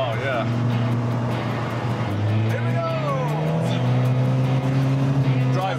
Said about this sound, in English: The exhaust's a nightmare. Yeah, it's quite loud, isn't it?